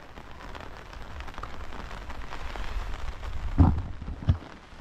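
Heavy rain pours steadily in a rural field where a woman is cutting grass, a dense continuous hiss with two brief louder knocks near the end.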